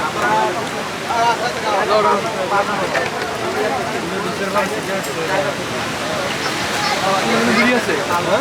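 Surf on the sand at Kuakata sea beach makes a steady, broad wash that rolls continuously beneath nearly constant nearby talking.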